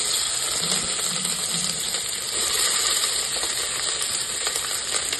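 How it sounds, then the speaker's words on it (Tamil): Chopped onions frying in hot oil with fennel seeds in a pressure cooker for a mutton curry, giving a steady, close, loud sizzle with a few faint clinks and stirring scrapes and no talking. "நறுக்கி வச்சிருக்க வெங்காயம் போட்டுருவோம்."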